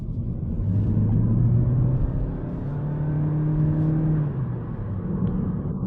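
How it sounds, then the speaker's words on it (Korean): Toyota Corolla Touring Sports engine accelerating on the road, a steady low rumble whose drone climbs gradually in pitch over several seconds, heard from inside the car with no talking. "지금 가속할 때 나는 소리도 들리시죠?"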